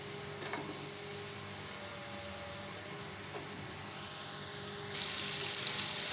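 Chopped onions frying in hot oil in a kadhai, a steady close sizzle that holds evenly throughout and turns brighter and hissier near the end, with a couple of faint clinks and no voices.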